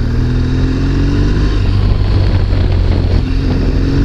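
A new BMW 1200GS motorcycle being ridden on an open road, its engine a steady, close low drone mixed with rushing wind noise for the whole stretch, with no talking.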